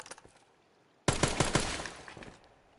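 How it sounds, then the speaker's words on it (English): SMG fire in the video game Dead Rising: faint rapid shots at first, then a loud sudden burst of automatic fire whose rattling pops slowly trail off. "so here's the SMG."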